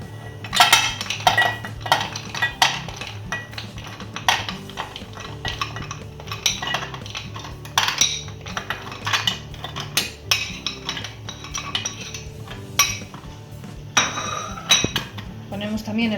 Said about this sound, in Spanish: Ponemos el chocolate en otro cazo, que esté bien sequito.